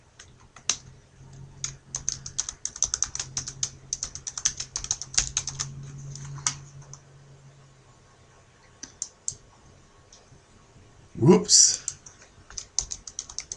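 Rapid clicking keystrokes on a computer keyboard while signing in to a web system, typed in bursts with pauses and heard close, followed by a brief spoken remark near the end.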